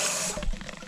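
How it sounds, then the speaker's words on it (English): Tap water runs into a measuring jug at a kitchen sink, a brief, close, hissing rush that softens into a bubbling fill. "Then take our measuring jug, stick it on the tap."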